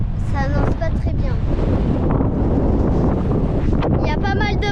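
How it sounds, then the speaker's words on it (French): Strong wind buffets the microphone in a constant, rough rush at Malendure, at anchor on a boat, while a person talks over it. "Il y a pas mal de vent."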